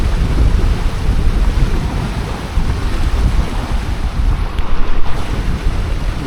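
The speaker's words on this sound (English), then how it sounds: "The wind pick up." Strong wind roaring over the microphone while sailing a Hobie Cat 16, a loud steady buffeting rush mixed with splashing water and waves, no voices.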